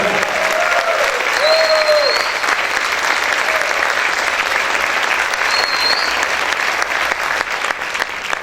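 Sustained applause from a church congregation during a sermon, loud, thick and unbroken from start to finish, with brief cheers or whoops cutting through the clapping now and then.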